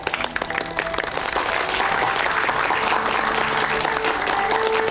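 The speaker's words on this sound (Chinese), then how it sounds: "秦副市长就带头鼓掌" Sustained applause from a room of officials at a municipal government meeting, dense and fairly loud, swelling slightly after the first second and continuing evenly to the end.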